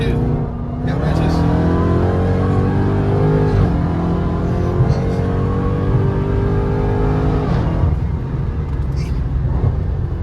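A Dodge Charger Hellcat Redeye drives with a loud, continuous engine roar and supercharger whine, a steady high tone running over rumbling exhaust throughout.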